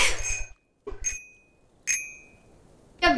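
A small bell rung by a goose's beak in Untitled Goose Game, three bright rings, each struck and then fading, preceded by a short rustle of game sound.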